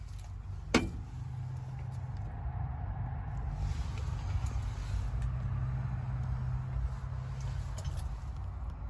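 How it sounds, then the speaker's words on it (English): A cold engine in a 1957 Chevy 150 two-door post car idling steadily with a low rumbling hum, after a brief sharp click near the start. "Dang, engine's still cold."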